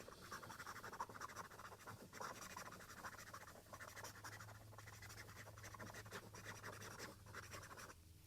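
A Hongdian 100 fountain pen nib scratches quickly across paper, making a continuous close scratching that stays quiet and unbroken with brief pauses.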